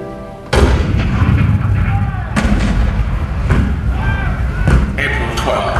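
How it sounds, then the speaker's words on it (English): Cannon fire at Fort Sumter in April 1861, heard as a rapid run of heavy booms and thuds that stay loud and dense across the scene, layered with a crackling battle din. "The cannon spoke for war, bitter, violent, and devastating."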